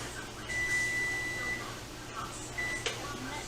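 A kitchen timer beeps as homemade meatloaf finishes cooking: one long electronic tone of about a second, then a short second beep, clear over quiet room noise.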